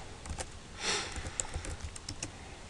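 Someone types on a computer keyboard during a Python Django programming session, a run of quick, light key clicks at an uneven pace, close and fairly quiet, with no speech.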